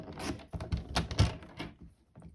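Paper for a tri-fold card trimmed down by an eighth of an inch, heard as a close run of short crisp cutting clicks and slides over about two seconds, fading out near the end.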